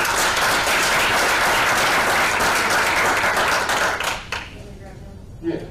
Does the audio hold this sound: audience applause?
yes